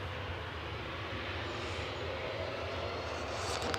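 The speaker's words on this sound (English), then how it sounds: "To touchdown is EasyJet from Orly in Paris." An EasyJet airliner from Paris Orly touches down at Manchester Airport, a steady broadband roar of engines and rushing air that holds loud and constant throughout with no talk.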